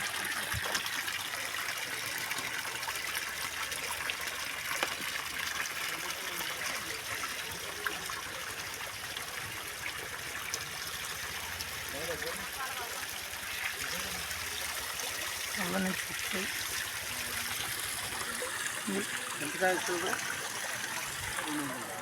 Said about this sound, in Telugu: అమ్మవారికి ఎక్కడి నుంచి వస్తాయి నీళ్ళు? గుట్టలో నుంచి.